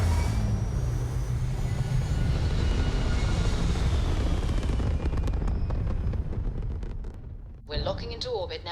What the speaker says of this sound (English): We're cleared for liftoff.